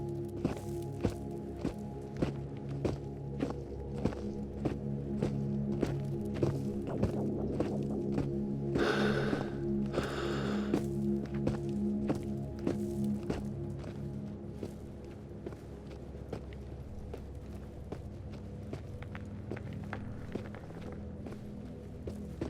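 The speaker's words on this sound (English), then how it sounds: "I hear footsteps. Not entirely sure they're all mine." Footsteps in the VR video game Into the Radius, a steady run of firm thudding steps on hard ground that carries on for over twenty seconds, close and even in pace, with a low constant ambient hum underneath and no talking.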